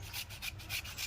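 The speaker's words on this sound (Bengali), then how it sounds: "সিলে আর বাটতে হবে না, এটা যা ঘষে ঘষে হচ্ছে" Taro grated by hand, a faint, soft rhythmic scraping of the root against a grating surface in repeated short strokes.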